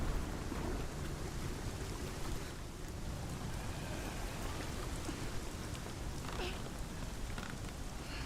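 Steady rain falls in Hellblade: Senua's Sacrifice, a continuous dense hiss of drops with a low rumble beneath it, holding constant and fairly loud throughout.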